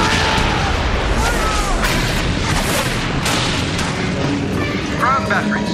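Ground gun batteries mounted on ramps firing artillery in a battle scene, loud repeated booms and blasts layered over a constant roar of combat noise, with brief shouted voices.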